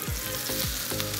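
Chopped ginger and garlic fry in butter and a little oil over high heat for Chinese-style fried rice, a dense close sizzle broken by rhythmic scraping strokes of the spatula.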